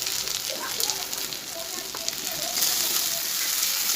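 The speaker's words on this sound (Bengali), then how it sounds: "ভালো করে কষিয়ে নেবো এটা।" Spices with turmeric and salt frying in a pan for a fish-head moong dal, a soft continuous sizzle with faint crackles under quiet background sound.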